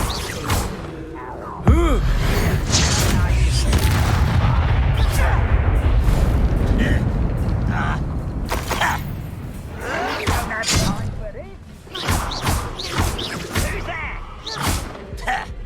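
Magic spells are cast in a Harry Potter video game, including an Incendio fire spell. Loud booming, crackling bursts and thuds recur over several seconds while a voice talks over the action.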